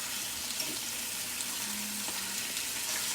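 Steady frying sizzle of chicken in a hot oiled pan, a constant crackling hiss with a few faint pops, close and continuous with no talking.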